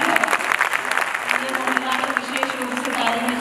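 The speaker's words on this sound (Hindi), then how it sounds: "तालियां बजाओ एक बार जोरदार" An audience applauding at a Hindi comedy or poetry event in Udaipur, dense sustained clapping from a sizable crowd across the whole stretch, fairly close and steady.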